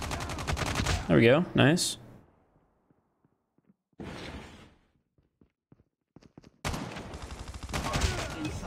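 Gunfire in Call of Duty Mobile aimed at a counter UAV, loud, bursting in several separated rapid volleys with quiet gaps between them, while a player talks briefly over the shooting.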